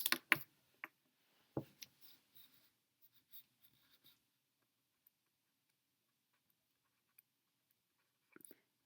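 A pen scratches out a math expression by hand on paper, a few quick close strokes at the start, then scattered faint taps and scribbles fading into near silence, with one last brief stroke near the end.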